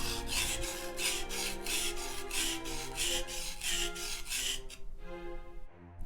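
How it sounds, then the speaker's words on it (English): Steel knife blade rubbed in steady back-and-forth strokes across a whetstone, about a dozen even rasping passes close up, stopping near the end with no talk. "Regarding the placement of my knife on the stone, I've been working with a 45-degree angle"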